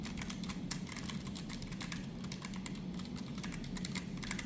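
Steady typing on a NocFree Lite keyboard fitted with Kailh Hush Deep Sea Switch Pro tactile switches, rapid muted keystrokes in a continuous close, soft patter.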